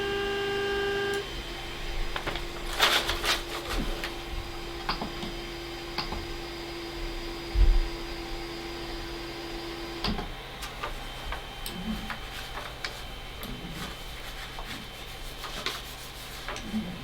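A Creality Ender 3 Pro 3D printer running, steady motor whir with rapid ticking steps and a sustained tone, an occasional louder clack, heard alone at moderate distance.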